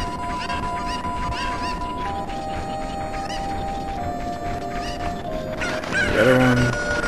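A chicken clucks and squawks repeatedly inside a box in the video game Ocarina of Time, the calls layered over steady game background sound and rising into a louder burst near the end.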